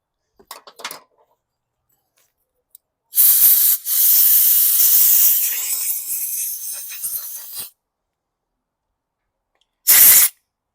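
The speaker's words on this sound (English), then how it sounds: "I'm just going to blast some air through here" Compressed air blasted through the carburetor of a 2021 Troy-Bilt push mower: a brief hiss, then one loud sustained blast of about four seconds that tapers off, and a final short burst after a pause.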